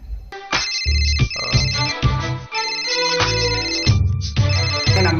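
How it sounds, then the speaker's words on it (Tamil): Outgoing phone call ringing as a loud, repeating melodic ringtone, its bright phrases pausing briefly between repeats, close and alone with no talking. "கால் போகுது."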